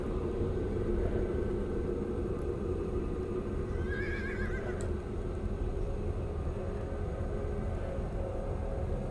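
A strange mutant horse whinny in the video game Stalker Anomaly rises briefly midway over a constant low rumbling background, fairly faint and distant.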